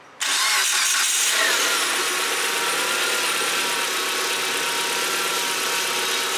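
A car engine cranks and catches after a jump-start from a portable power bank, then settles into a steady, close idle that runs on without talk.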